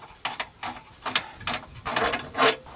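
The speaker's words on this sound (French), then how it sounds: "Là, la clé à choc ne suffit pas." Short irregular bursts of an impact wrench hammering at a car suspension bolt that won't break loose, several rattling blasts separated by brief pauses, fairly close and moderately loud.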